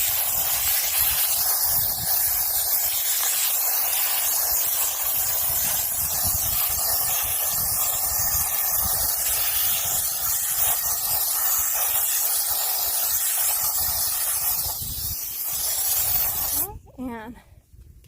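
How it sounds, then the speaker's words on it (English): Water spraying to rinse tumbled rocks, a loud continuous hiss held for about sixteen seconds before cutting off, followed by a short rattle. "So, rinsing these off."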